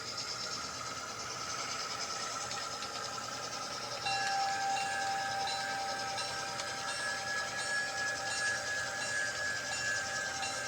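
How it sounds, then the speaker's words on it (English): An HO scale model train rolls into a siding on a Utah Colorado Western layout, with a steady rumble and wheel noise throughout and a sustained horn-like tone joining partway through, with no talk. "Okay, so our train's coming into Flanagan here."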